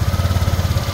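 A Yamaha Aerox V1 scooter engine, just repaired, putters at idle with a fast, even pulsing beat, close and loud for about a second.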